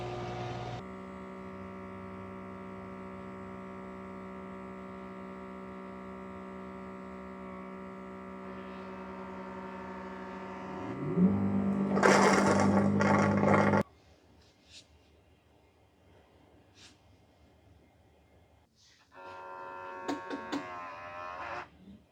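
A Mova Z60 robot mop with a mop roller gives off a steady mechanical gear-like whir with a tonal hum, swelling into a louder grinding burst, then dropping to near quiet before a brief return.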